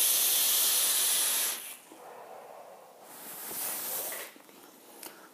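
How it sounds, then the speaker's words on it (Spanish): Vaping on a UD Anzu RDA atomizer at 80 watts with a 0.28-ohm coil gives a loud, close, airy hiss of the inhale, then quieter breathy exhales and a short second draw. "Pues muy buena la producción de vapor."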